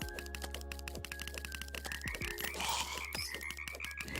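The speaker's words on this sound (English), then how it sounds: "It sounds like a frog." Frog croaks in Terraria, a burst of croaking over steady game music and effects, moderately loud in the middle of the clip with no talking.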